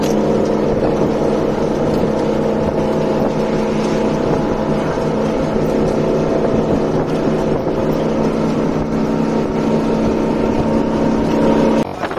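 Steady, loud engine drone and road rumble fill the inside of a moving bus on a journey, continuous for the whole stretch with no talking.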